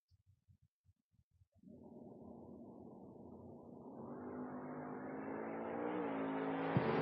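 Drag racing cars in a foot brake doubles round at a strip, a low rumbling idle bursting into a sustained engine roar that climbs steadily in pitch as the cars launch and pull away, moderately distant.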